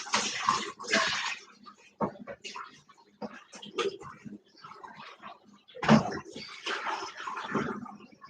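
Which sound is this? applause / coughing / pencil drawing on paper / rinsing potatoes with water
rinsing potatoes with water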